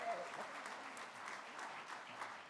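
Gala audience at a sports tribute evening in Mauricie applauding the evening's hosts, steady sustained clapping from a crowd heard at a moderate distance.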